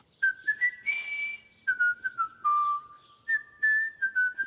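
Bright, tuneful whistling from a cartoon dog character, a cheerful wandering melody of held and gliding notes with short gaps, close and clear with no talk.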